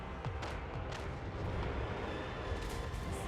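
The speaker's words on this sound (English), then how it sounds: "Cannons, fire!" Cannon volleys in the fantasy battle game Total War: Warhammer III, a dense continuous rumble of booming artillery fire with several sharper blasts rising out of the din, loud and sustained without a break.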